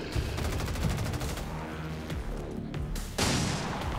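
Gunfire in the video game XCOM 2: War of the Chosen, a dense sustained burst of rapid shots with a heavy low boom, loud and continuous, with a sharper volley near the end.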